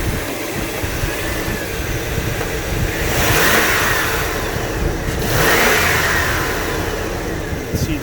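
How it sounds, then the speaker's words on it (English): A Chevrolet Suburban engine idles loudly up close, then rises twice in quick throttle snaps, each rev swelling and falling back, under steady engine rumble with no talk. "Nice thing is I can snap throttle it."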